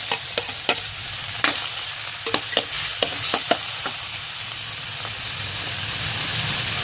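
Garlic, onion and tomatoes sautéing in a pan for an odong noodle dish with pechay, a steady sizzle of frying broken by sharp clicks and scrapes of a utensil stirring against the pan.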